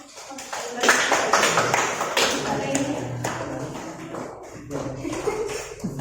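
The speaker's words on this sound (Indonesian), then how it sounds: "Tepuk tangannya ya." A classroom breaks into applause, with a dense run of hand claps rising and then easing off across several seconds. Scattered taps and shuffling mix in, along with voices in the room.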